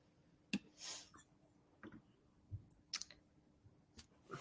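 Sparse clicking taps at irregular intervals, quiet and close, like a few keystrokes on a keyboard with pauses between them.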